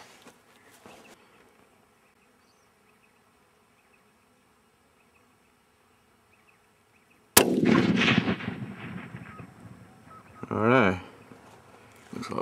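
A single sharp rifle shot fired at a long-range steel gong target on an outdoor range, a loud crack with a rolling echo after a long quiet stretch, followed later by a brief tonal ring.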